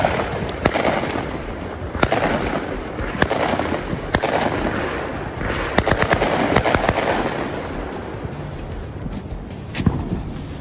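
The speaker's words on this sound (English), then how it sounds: "we got Yoda on a nice firework, a little bit difficult to see in the dark" Fireworks bang and crackle at a New Year celebration at night, with sharp separate pops scattered over a continuous crackling rumble, fairly loud and with no speech.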